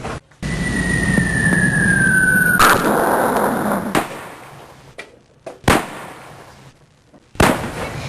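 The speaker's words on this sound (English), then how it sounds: "The English attacked in 1702 and in 1740. Cannons flew." Cannon fire in a school puppet show about English attacks on the St. Augustine fort: a whistling shot falls and lands with a heavy boom, followed by several more sharp, loud blasts spaced a second or two apart.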